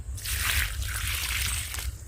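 Water is poured in a short, close splashing burst lasting about two seconds, with no talk over it.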